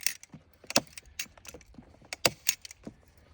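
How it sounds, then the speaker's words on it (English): Staple gun firing plastic sheeting onto wooden furring strips during a greenhouse build: a handful of sharp, close metallic snaps spaced irregularly, with rustling of plastic and handling noise between them. "we're using the staple gun, stapling the plastic onto the furring strips"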